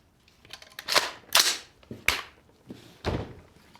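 Several AR-15 rifle shots heard at a distance, five sharp irregularly spaced reports with short decays, fairly faint and with no talking.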